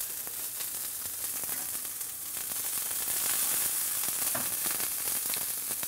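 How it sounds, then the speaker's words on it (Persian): Steak frying in oil in a pan over a flame a little below medium, a steady broadband sizzle that holds evenly throughout with faint crackles, close and alone. "تو مرحله اولی که شروع میکنیم به سرخ کردن استیک ها"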